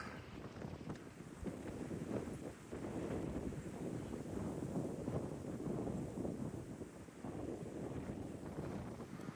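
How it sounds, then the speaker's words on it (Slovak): Strong wind on the Pacific Crest Trail roars steadily against the microphone, a loud continuous rumbling buffet with no letup. "Asi fúka dosť"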